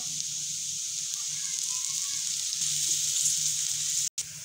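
Chopped garlic fries in hot oil with a steady, bright sizzle that briefly cuts out near the end, then resumes.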